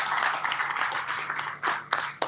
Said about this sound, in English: so a round of applause for her, please